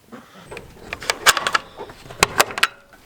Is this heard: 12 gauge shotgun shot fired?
no